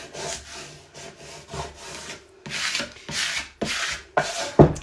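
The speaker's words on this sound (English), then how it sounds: "burnish the back of the vinyl, or front of the vinyl as it is now, when applying" A squeegee burnishes vinyl applied to wood in a series of short, dry scraping strokes, about nine rhythmic rubs, close and fairly loud, with no talking.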